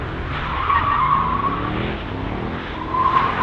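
Tires squeal continuously as a Mercedes-AMG E63 S or C63 S drifts around a drift school course, with the engine note underneath and the squeal swelling and easing as the car slides.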